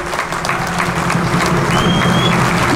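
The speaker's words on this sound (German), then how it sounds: "Einen donnernden Applaus und tschüss aus Rostock!" Sustained applause from a crowd at a cruise ship keel laying ceremony at a Rostock shipyard, a dense steady clatter of clapping that swells slightly toward the end, with a thin whistle-like tone cutting through briefly.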